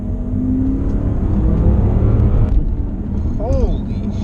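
A BMW F10 M5 with an Akrapovic exhaust accelerating hard, a loud sustained engine roar rising steadily from inside the car, with people talking over it.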